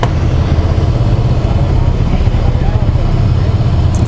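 A 2023 Ducati Scrambler Icon motorcycle is ridden at walking pace, giving a loud, close, steady low engine chug with an even pulsing throb throughout.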